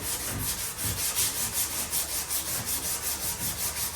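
Spot putty being hand-sanded on a sidecar body during restoration, a steady close rasping rub with regular back-and-forth strokes and no other sounds.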